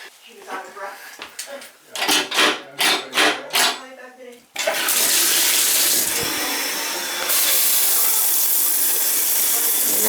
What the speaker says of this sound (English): let's see if it takes it with the shower